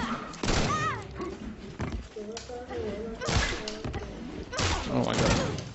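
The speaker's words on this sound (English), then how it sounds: "Oh, cupcake bombs." Harley Quinn's cupcake bombs exploding in the Injustice fighting game: several sharp thuds and crashes among game effects, with a voice talking over them.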